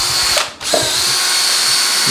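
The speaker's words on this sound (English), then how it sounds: "But I've just got this drill on high. Just mixing that up and down really good." Electric drill running on high with a paddle mixer stirring polyurethane foam for altering a taxidermy form, a loud steady whine with a brief dip as the trigger eases, then back to full speed.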